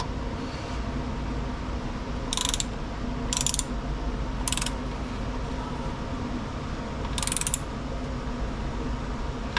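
A torque wrench with a 3/8 drive and 10 mm socket tightens a bolt on a Honda HRX217 mower with a GCV190 engine, giving four short ratcheting bursts spaced over steady mechanical background noise.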